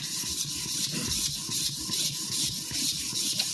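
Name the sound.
sharpening sujihiki knife on 400 grit whetstone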